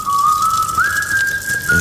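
A man whistles a melody, a pop song, as a clear, sustained tone that bends and slides between steady held notes, loud and close with no talking.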